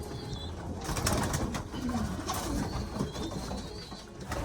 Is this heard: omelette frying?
no